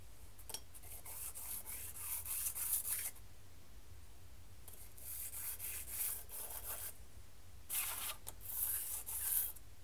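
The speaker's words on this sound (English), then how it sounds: "Let's use our sandpaper and one at a time carefully take that excess off." Sandpaper rubs excess material off small cufflinks machined from 4140 alloy steel, in three quiet bursts of close, rapid back-and-forth scratching separated by short pauses.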